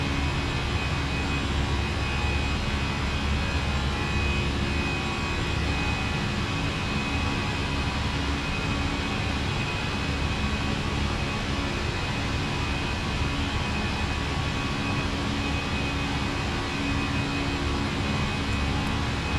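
Jet engines of a Fenix A320 airliner at climb thrust in Microsoft Flight Simulator 2024, after departure from London Heathrow: a steady, loud, broadband roar with a faint high whine, continuous and unbroken, with no voices.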